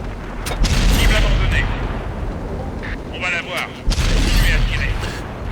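The AMX 50/120 tank's main gun fires in a game, a heavy booming shot with a deep rumbling tail, followed by a second blast, while someone talks over the battle noise.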